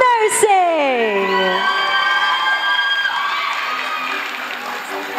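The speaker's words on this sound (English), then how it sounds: "let us give a resounding round of applause for the College of Nursing." A crowd at a film festival awards night erupts in loud cheering and shouting, high excited voices rising together with some clapping beneath, sustained and close.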